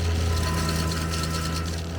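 A MechMaxx stump grinder mounted on a tractor and driven through a Harbor Freight quick hitch chews into a tree stump with its toothed spinning wheel, giving a loud, steady mechanical drone with engine hum and rough vibration throughout.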